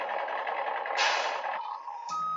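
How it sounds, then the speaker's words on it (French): A repeating electronic alarm tone runs through the recording, steady and fairly loud, with a brighter high-pitched burst near the middle and a sharper tone entering toward the end, alone without talk. "je vais localiser où exactement commence le son de l'alarme"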